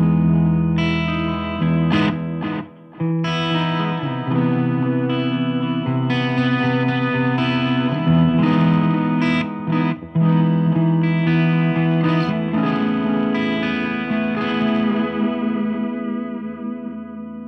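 Electric guitar played through a Helix LT or Headrush multi-effects unit with delay, distorted chords and lines with echoing repeats and a lingering tail at the end, loud and continuous with no talking.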